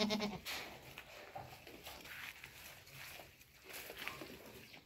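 Goats on a farm, Saanen and Maltese breeds, bleating a few times at a distance amid quiet outdoor background noise.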